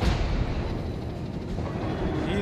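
Anti-aircraft guns aboard a warship in the World of Warships game fire as a continuous low, rumbling barrage of dull booms, steady and dense across the whole stretch with no voices.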